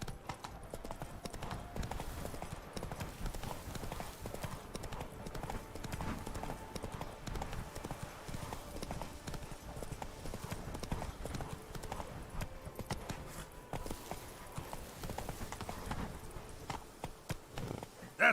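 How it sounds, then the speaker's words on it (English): A horse's hooves clip-clop in a steady trotting rhythm on the ground in The Witcher 3 game, faint and continuous for the whole stretch, with brief speech from the rider. "Come on, Roach"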